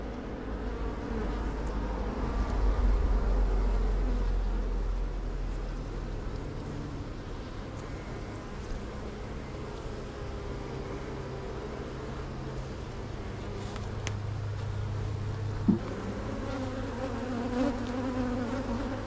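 Honey bees buzz steadily in an opened hive, a dense, continuous drone close by with low hum underneath and a brief knock near the end; no one speaks.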